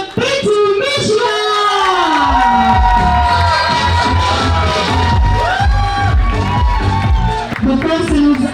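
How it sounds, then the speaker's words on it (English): An audience cheers, whoops and shouts at a university fashion event as a professor is introduced. A loud, excited crowd roars throughout, with music or tonal voices running through the din. "Let's give him a huge round of applause, ladies and gentlemen, Professor Dr. Pintu Mishra."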